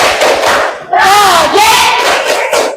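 Indonesian classroom students chant together in unison during the P5 group clapping routine, loud bursts of many young voices shouting in rhythm, rising and falling in short phrases.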